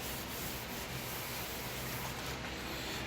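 Steady close-up rubbing, a continuous dry wiping of a cloth against a brake rotor, even and unbroken throughout.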